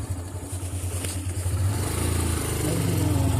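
Motorcycle engine on a rural farm road, a mid-pitched rumble with rhythmic pulsing that grows louder and steadier as it nears, heard alone without talk.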